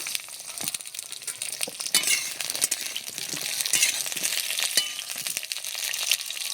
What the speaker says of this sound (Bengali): প্রথমেই পটল দিয়ে দিচ্ছি তেলে। সবার ফার্স্ট পটলগুলো ভেজে নেব।